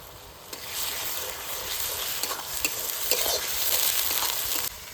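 Ginger-garlic paste frying with onions in a pan, a steady close sizzle with stirring scrapes running throughout, no voices.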